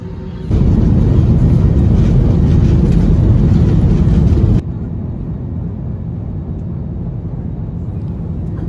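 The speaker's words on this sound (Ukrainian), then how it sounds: "Літак почав злітати." An airliner taking off from Chișinău airport, heard from inside the cabin: a loud, steady engine roar swells for about four seconds, then drops sharply to a lower, continuous drone.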